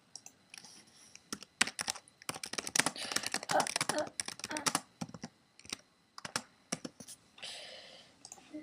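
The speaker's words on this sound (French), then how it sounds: "j'espère que le bruit du clavier vous dérange pas trop" Rapid clicking on a computer keyboard during a game session, close and crisp, coming in uneven bursts of keystrokes with short pauses between.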